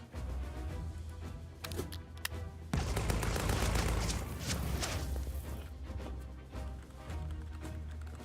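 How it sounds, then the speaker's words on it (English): Gunfire rattles through a Storm Warfare video game battle, with rapid bursts and a dense stretch of shooting in the middle, fairly loud and without talk. "Let me blow your Spitfire with my pistol."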